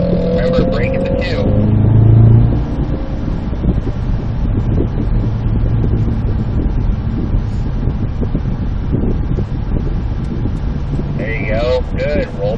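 A Cadillac CT5-V Blackwing with a six-speed manual accelerates on a race track at Spring Mountain in Pahrump, its engine a loud steady roar mixed with heavy wind noise while someone talks over it.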